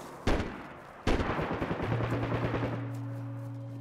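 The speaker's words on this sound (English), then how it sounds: "Gunshots like super close to me, but I can't see him." Close gunfire in the survival game DayZ: two sharp single shots, then a rapid burst of automatic fire that fades into a lingering tonal ring, loud and near, with no voices.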